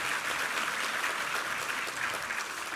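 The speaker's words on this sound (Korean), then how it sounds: "우리 하나님께 감사와 영광의 박수 올려드리겠습니다" Church congregation applauding together during a Sunday worship service, a steady, dense wash of clapping that holds at even loudness throughout with no speech over it.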